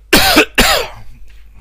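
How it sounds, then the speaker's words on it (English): Two sharp, close coughs in quick succession, followed by quiet. "I still have a little coughing once in a while."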